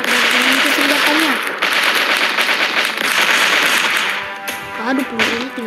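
Gunfire in a stickman shooting video game, a dense loud crackle of rapid shots running continuously, with a voice talking over it toward the end.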